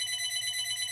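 A telephone ringing indoors, a steady electronic ringing tone that holds for the whole second, clear and without talk.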